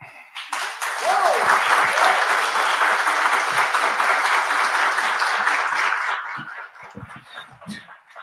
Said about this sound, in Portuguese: Mais alto, mais um pouquinho de palmas